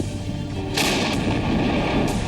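An M777 howitzer artillery cannon fires loud, booming shots close by, with a heavy continuous rumble and sharp blasts cutting through.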